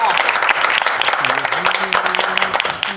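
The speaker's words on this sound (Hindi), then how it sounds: "एक बार जोरदार तालियां" An audience at a ghazal album launch event gives loud, dense applause for about three seconds while a voice speaks over the clapping.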